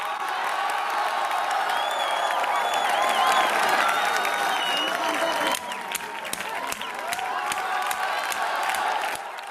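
Dense crowd roar of cheering, whistles and applause at the Wagah border ceremony, loud and continuous throughout with scattered sharp whoops and claps rising above the din.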